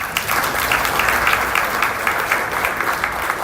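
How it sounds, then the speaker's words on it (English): An audience in Nairobi applauds during a speech about building a first nuclear power plant, with loud, steady clapping from a large crowd and a few sharper individual claps standing out. "I think that deserves a round of applause"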